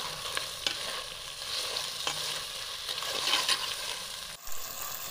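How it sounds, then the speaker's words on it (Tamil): Crab sautéing in oil in a pan: a close, continuous crackling sizzle with repeated scraping and stirring knocks, moderately loud and with no voices. "எண்ணெயிலே 1-2 நிமிஷம் நல்லா வதக்கிக்கலாம் நண்டேவை."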